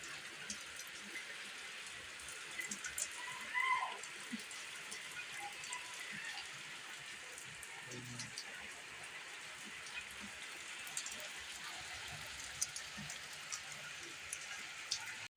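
Rain falls steadily outdoors after a night-long downpour, a soft, even patter of drops on surfaces, fairly faint and constant, with a few slightly louder splashes.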